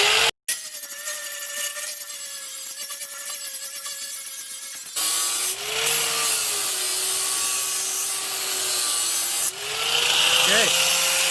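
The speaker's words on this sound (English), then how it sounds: "we're gonna grind the area here down so that it doesn't look really off" Angle grinder working the cut fender area of a 1988 Toyota Hilux truck: a steady high-pitched whine with grinding rasp running close and loud, pausing briefly, then resuming with a shifting pitch as the disc bites into the metal.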